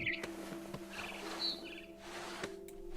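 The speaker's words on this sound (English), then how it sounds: "Then I heard chirping outside my window. It was a barn swallow going back to her nest." A barn swallow chirps outside a window in What Remains of Edith Finch, giving a few faint, brief calls over a low ambient hum, alone without talk.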